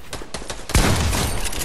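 Rapid video game gunfire during a build fight: a few quick shots, then a loud sustained burst of shooting that carries through to the end, no talking.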